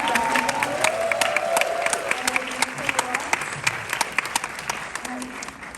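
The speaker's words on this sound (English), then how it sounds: "Can we have another round of applause, please?" A theatre audience at a post-screening Q&A in Toronto applauding steadily, dense clapping throughout with a few cheers, while a moderator speaks over it.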